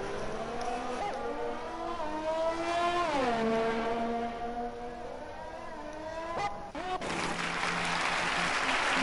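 A McLaren Formula 1 car's engine whines in a racing video game at a Canadian circuit, a steady high-pitched tone that dips and rises as the car slows and accelerates, with a brief sharp break near the end.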